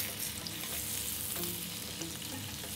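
Endives are turned in a hot buttered pan, giving a steady close sizzle and frying crackle with soft scrapes of stirring throughout.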